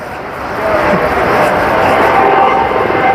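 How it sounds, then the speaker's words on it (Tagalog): A helicopter flies over the Las Vegas Strip, a steady loud rotor and engine roar filling the street scene along with traffic and city noise. "Yung mga heliko helicopter lagi, oh."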